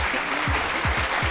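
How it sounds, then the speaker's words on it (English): Brief burst of audience clapping at a live contest show, dense and loud, with a few low thumps mixed in. "Another applause for Selom"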